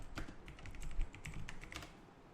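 Soft, close clicking of keys on a computer keyboard, a quick irregular burst of keystrokes that fades toward the end, quiet with no voices.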